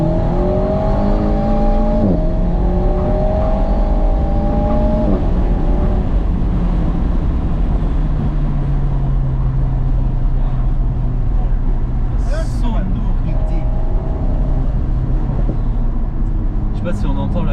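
An Alpine A110 GT drives along roads near the Pilat dune, its engine a steady loud hum with a shift in pitch early on, heard from inside the car with constant road noise.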